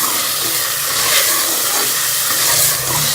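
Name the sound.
pork frying in spiced masala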